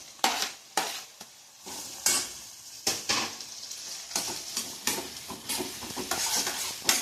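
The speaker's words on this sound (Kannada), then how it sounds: "ಫ್ರೈ ಆಗುತ್ತಿದ್ದು ಅದ್ರ ಜೊತೆಗೆ ಕ್ಯಾಪ್ಸಿಕಮ್ ಹಾಕ್ಕೊತಾ ಇದ್ದೀನಿ" Soya chunks manchurian fry in a pan with capsicum while a utensil stirs and scrapes, giving repeated sharp strokes over a constant close sizzle. No one speaks.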